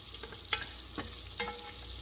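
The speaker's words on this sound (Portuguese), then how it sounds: "o alho já tá sendo frito aqui" Garlic fries in a pan with a steady, quiet sizzle, broken by a few soft stirring clicks and scrapes, with no voices.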